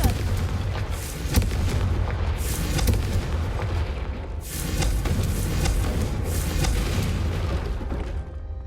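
Repeated Confringo blasting-spell explosions in the Hogwarts Legacy video game, a run of loud booming bursts with heavy low rumble that keep going one after another with no gap between.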